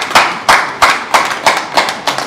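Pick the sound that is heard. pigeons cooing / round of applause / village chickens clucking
round of applause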